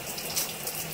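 Water runs from a tap during a natural hair wash, a steady close hiss and splash with no break and no talking over the brief moment.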